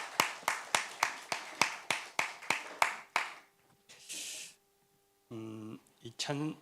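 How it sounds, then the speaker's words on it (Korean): A church congregation at a Sunday worship service clapping in unison, about ten evenly spaced sharp claps close by, then a brief hiss and a voice speaking afterward. "우리 하나님 앞에 다시 한번 영광의 박수하겠습니다."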